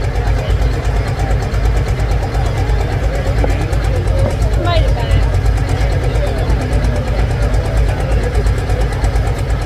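A loud John Deere 6030 tractor engine roars steadily at a tractor pull, a continuous heavy drone filling the scene while an announcer talks over it.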